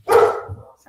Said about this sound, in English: Sorry, those my dogs.